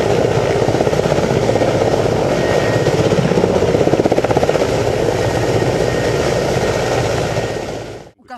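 A military helicopter's steady, loud rotor chop and engine roar fill the air close by at a military brigade base, holding constant before cutting off sharply at the end.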